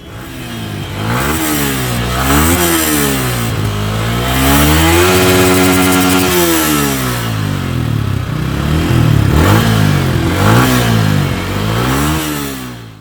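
A Yamaha MT15 BS6 motorcycle engine revs loud and close, its pitch climbing and falling in repeated throttle blips before holding a sustained high rev, with no talking.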